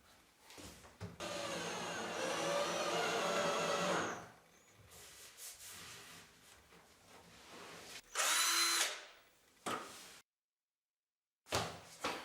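A power drill whirs in a sustained burst of a few seconds, driving screws to fix a clamped countertop in place, then shorter whines and clunks of tools on wood follow, fairly quiet, no talking.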